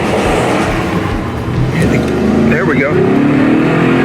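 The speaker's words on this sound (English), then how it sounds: "Man, listen to that big old motor under there. It's just rolling." A six-year-old GMC Yukon XL Denali's big engine runs steadily as the SUV pulls out, a loud continuous low rumble heard from inside, with someone talking briefly over it.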